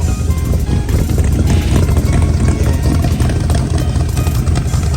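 A loud LS V8 engine with an aggressive cam idles with a choppy, uneven rumble, lumpy and loping, close by and continuous with no voices.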